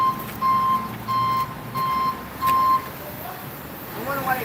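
A new truck's reversing alarm beeps four times in a steady, evenly spaced rhythm at a sandstone installation site, moderately close over outdoor background noise.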